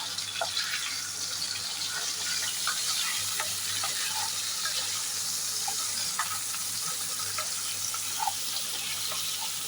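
Capsicum pieces and curry leaves fry in a pan for aloo capsicum curry, a steady close sizzle with scattered small pops and crackles running throughout, no voices.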